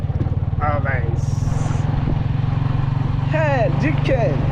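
Motorbike engine humming steadily while riding home, a low even drone running underneath throughout, with a voice speaking over it near the start and end.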